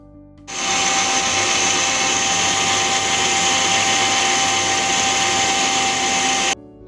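A mixer grinder blending pomegranate seeds whirs loudly and steadily for several seconds, a dense high-pitched motor roar that starts and stops abruptly.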